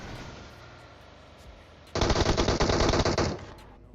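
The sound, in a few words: gunfire in the video game PUBG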